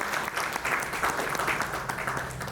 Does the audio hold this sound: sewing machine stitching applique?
no